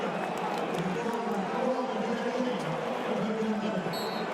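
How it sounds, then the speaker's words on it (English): Clemson football fans in a stadium crowd roar in a broad, steady wash of ironic cheering during an afternoon game against Troy, sustained throughout with a voice speaking over it. "a Bronx cheer from the Clemson fans that something actually went their way here this afternoon"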